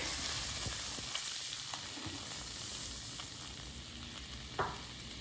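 Butter melting in a frying pan over a lowered flame, giving a steady, even sizzle with a few soft pops and clicks and one brighter spatter near the end; no one talks.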